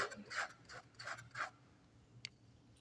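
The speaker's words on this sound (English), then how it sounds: "this is a 25-year-old brush I'm holding. So if it makes a scraping sound, it's okay" An old bristle paintbrush scrapes across canvas in several short rasping strokes, about five rhythmic swipes in close succession, followed by a brief single scratch, all quiet and close with no talking.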